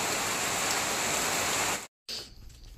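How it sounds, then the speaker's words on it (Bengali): Steady rain pours down in a village during a days-long downpour, a loud even hiss that cuts out abruptly near the end and returns much fainter. "3 দিন যাবৎ বৃষ্টি হচ্ছে"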